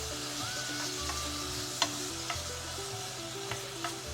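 Fish cake stir-fried in a pan with soy sauce and garlic, with no cooking oil, sizzles steadily and close, with a few sharp clicks of stirring and no talk.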